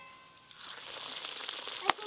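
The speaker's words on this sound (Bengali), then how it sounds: "আর এক পিস মাত্র ফিশ কাটলেট ভাজা হতে বাকি আছে" Fish cutlet frying in hot oil in a home kitchen for a puja meal, a soft crackling sizzle that builds gradually with a few sharp pops, heard alone.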